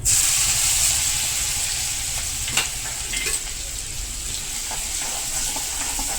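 Ginger and green chili paste dropped into hot oil in a home kitchen pan for a drumstick-leaf curry, giving a loud, bright, continuous sizzle that settles slightly, with a couple of brief stirring clinks partway through.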